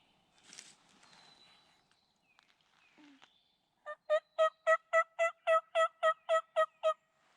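Wild turkey toms gobble in spring woods, a loud rapid burst of about a dozen rattling notes after some faint scattered calls, heard alone without talk.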